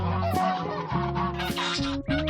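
Several loud goose honks overlap in quick succession, harsh nasal calls from more than one bird, close by and with no other sounds.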